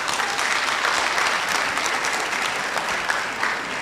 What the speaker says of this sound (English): Please let the inductees and this gathering give the parents a round of applause